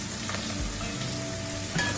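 Potato chips and bitter gourd frying in hot oil, a steady close crackling sizzle with a few faint clinks toward the end, no voices.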